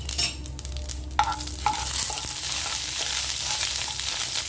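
Steady oil sizzle with a few sharp crackles and pops of black mustard seeds near the start, before hog plums are added for sour dal, continuous and close.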